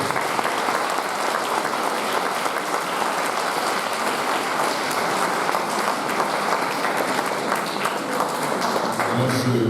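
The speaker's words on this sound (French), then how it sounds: "Donc ça s'applaudit." Applause from a congregation during a Sunday Mass in a church, a dense, steady clapping that fills the room for about ten seconds.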